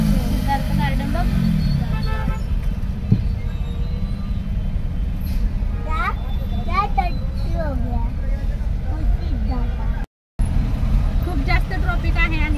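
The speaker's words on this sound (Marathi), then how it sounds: "खूप जास्त ट्रॉफिक आहे" Road traffic on a busy Indian street heard from inside a moving vehicle, a constant loud rumble of engines and passing cars with occasional horns, under children's and adults' voices talking.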